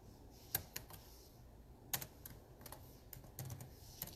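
Computer keyboard typing heard close and quiet, a few scattered sharp key clicks with pauses between them, and no voices.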